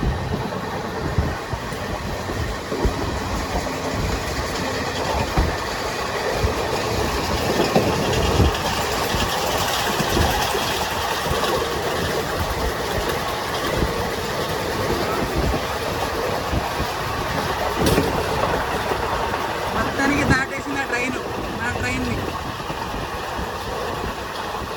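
The Krishna Express runs at speed, a loud continuous roar of wheels on rail with rhythmic clickety-clack and rushing wind heard from inside the train, with no talking.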